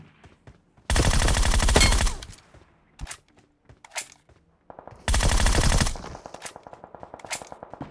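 Gunfire in a video game: two long, loud bursts of rapid automatic fire a few seconds apart, with scattered single shots and quieter pops between them.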